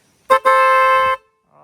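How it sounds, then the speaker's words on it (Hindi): An aftermarket horn on a modified Royal Enfield Meteor 350 motorcycle sounds a short, loud toot, then a longer sustained blast nearby, followed by quiet. "ओके तो और हॉर्न्स भी पोंपों वाले लगवाए हुए हैं."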